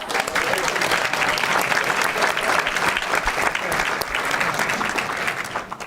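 Audience applause at a school board meeting, a dense, steady clapping from a crowd that holds loud and even throughout without letting up.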